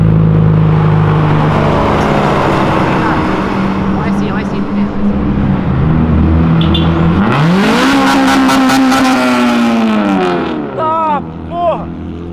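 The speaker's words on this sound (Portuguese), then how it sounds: "Sabe essa Porsche cromada verde, limão, que passou agora?" A chrome lime-green Porsche passes close by with a loud rising engine note that swells and fades over several seconds, amid street noise and people talking.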